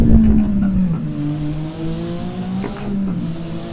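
A drifting car in the racing game Drift 21, engine revving with shifting pitch while tires squeal through a slide, loud and continuous, with no talking over it.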